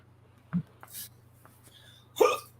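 A single hiccup, loud and close, followed after a pause by a longer, stronger hiccup-like burst, with faint breathy sounds in between and no talking.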